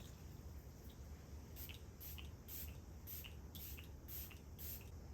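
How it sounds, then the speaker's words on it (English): Peach and Lily Glass Veil Skin Mist sprays onto a face in a series of soft, brief hissing puffs, about half a dozen in quick succession, faint and close over quiet background hum. "So I'm gonna use my Peach and Lily Glass Veil Skin Mist."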